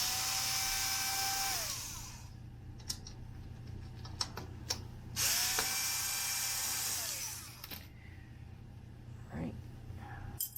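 Screws being backed out of the rear cover of a Wollensak 1515 reel-to-reel tape recorder with a powered driver, two long steady whirring runs broken by scattered small clicks and taps of metal parts, close and moderately loud over a low hum.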